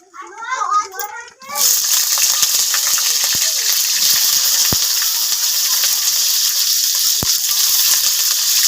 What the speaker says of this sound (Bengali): এখন ফুলকপিটা আগে ভেজে নিচ্ছে